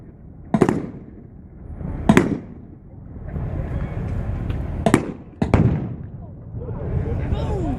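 Four sharp, heavy tank cannon blasts ring out at uneven intervals during a WWII tank battle reenactment, each a loud crack followed by a rumbling echo.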